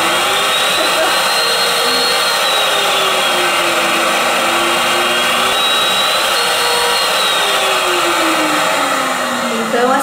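A spray tanning machine with six speed settings runs continuously, a loud steady motor whine and airflow hiss that shifts in pitch as the speed changes, with no talk over it.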